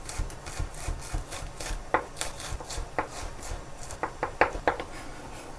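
A knife slices a vegetable in half, with several crisp, close chopping knocks spaced irregularly over soft rubbing sounds and no talking.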